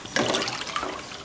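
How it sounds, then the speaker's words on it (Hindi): Water, about 500 millilitres, is poured into a cooking pot for moong dal khichdi, making a short, close splashing gush that quickly settles. "अब हम इसमें पानी डालेंगे तकरीबन 500 मिलीलीटर"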